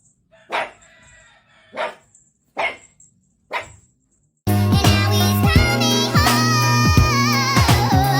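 A fluffy pet dog gives four single barks spaced about a second apart in a quiet room, loud and close. Then loud music starts with a sudden cut and plays over the end.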